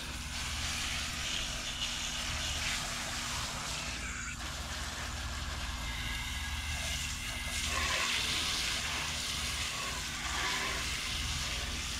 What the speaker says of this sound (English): You want to get it good and rinsed.